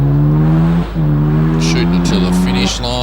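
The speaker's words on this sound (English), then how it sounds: "Glenn Ladder makes his way around the hairpin in the Mazda RX-7." A Mazda RX-7 rounds a hairpin at a hillclimb, its engine giving a loud, steady, droning note that dips briefly and surges again, with a commentator talking over it.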